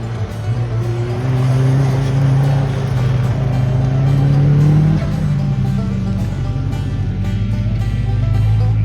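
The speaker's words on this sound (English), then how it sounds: "Little white car was 10 seconds quicker than Liberty's second pass." Car engines working hard on an autocross course, including a Corvette C4, revving and shifting loudly and close, with brief tire squeal.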